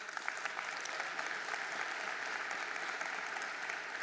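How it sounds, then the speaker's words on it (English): An audience at the ministerial announcement of national exam results applauds in a sustained, even wash of clapping, fairly distant and quiet. "A round of applause for Owe too."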